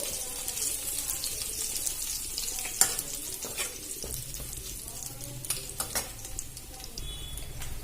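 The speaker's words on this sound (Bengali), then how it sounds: "বার ফোড়নের জন্য দিয়ে দেবো তেজপাতা আর গোটা জিরে এটা একটু নাড়াচাড়া করে ভেজে নেব" Bay leaves and whole cumin frying in hot oil for tempering, a close sizzle with scraping stirs, a few utensil clinks against the pan and brief splashes, no voices.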